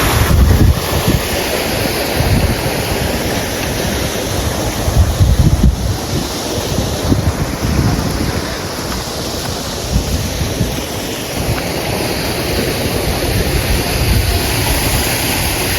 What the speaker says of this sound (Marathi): आर्टिफिशियल धबधबा इथे दाखवला आहे